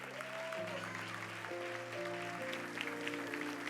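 A church congregation claps sparsely and faintly, a thin scatter of hand claps over sustained keyboard chords that shift in steady steps throughout.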